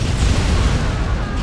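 Airstrike bombing in the video game Command & Conquer Remastered, a dense rumbling blast of explosions with heavy low-end boom filling the whole moment, loud and continuous.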